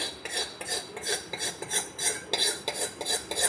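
Rhythmic metallic scraping of a spoon stirring tempering in a pan for puffed rice, repeating steadily about three times a second, close and fairly clear with no voices.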